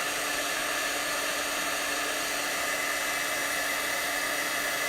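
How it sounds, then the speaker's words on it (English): A heat tool blows steadily to dry water off a paper craft project, a constant close whooshing hiss with no breaks, heard alone. "Really quick dry with the heat tool"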